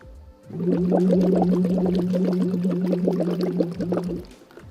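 Bubbles blown through a straw into water during a voice-care exercise, with a steady hummed tone under a dense, continuous bubbling gurgle that lasts about four seconds, close and alone.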